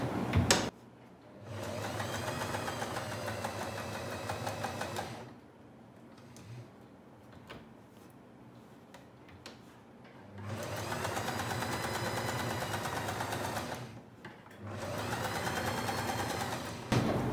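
A sewing machine stitches around a churidar neckline in three sustained runs of steady, close mechanical whirring, each broken by short pauses of quieter stillness.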